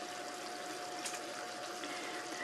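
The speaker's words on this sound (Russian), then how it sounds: "Добавляю немного воды." Water is poured into a pan of homemade meat cutlets, a steady hissing trickle with a brief louder splash near the middle, close and fairly quiet.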